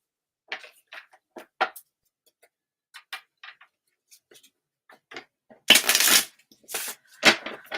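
Scattered light ticks and taps of tarot cards being handled, followed by a louder burst of shuffling near the end, close up with no talking.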